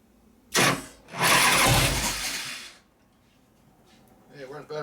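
A 2001 Gilroy Indian motorcycle engine, a rebuilt race bike, coughs once, then fires up and roars loudly for over a second before dying out. A voice follows briefly near the end.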